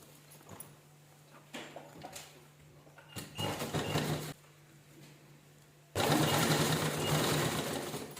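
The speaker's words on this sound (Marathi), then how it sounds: "आणि पूर्ण राऊंडला छान असं आपण स्टिच करून घेऊया" A sewing machine stitches around the edge of fabric cut from jeans. It runs in short bursts of rapid mechanical chatter, then in a longer, louder continuous run near the end, close up and without talking.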